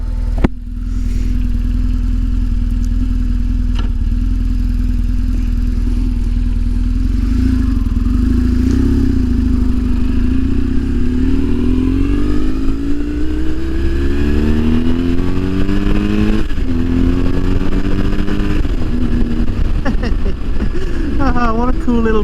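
Riding a BMW R1150 GS motorcycle, with a steady loud engine drone and wind rush, and engine pitch rising and falling through gear changes near the end.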